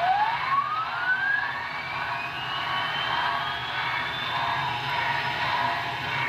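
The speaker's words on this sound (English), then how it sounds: "What you're hearing there is the dynamo." Dynamo sound from a Broadway Limited T&P 2-10-4 brass hybrid model steam locomotive under DCC, a steady whine rising in pitch and settling into a continuous hum over a constant background hiss, with no talking.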